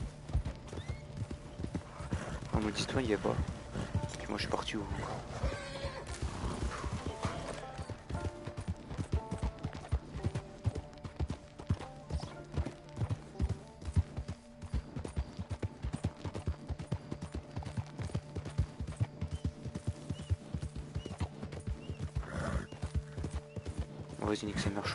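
Horse hooves clip-clopping in a steady galloping rhythm in the video game Red Dead Online, with occasional whinnies, running under continuous casual talk from a player.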